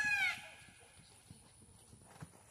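Horse hooves clip-clop on an arena surface during a riding lesson, soft irregular thuds at moderate distance after a brief whistle-like squeal at the start.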